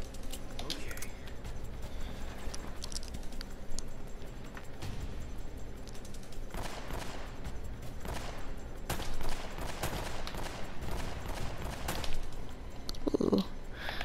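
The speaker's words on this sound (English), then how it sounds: "Ooh, nice shooting, Elena." Gunfire in the video game Uncharted: Drake's Fortune, a mix of single shots and quick bursts scattered across the clip with louder clusters, amid game noise and occasional speech.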